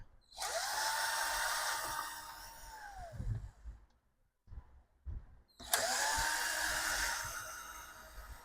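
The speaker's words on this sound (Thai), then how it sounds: "ฝั่งนี้เราขันน็อตออกแล้วนะ" A power screwdriver whirs as screws are backed out of an SRC audio mixer being opened for repair of a no-power fault: two sustained, close whining runs separated by a pause with a few soft knocks and handling noises.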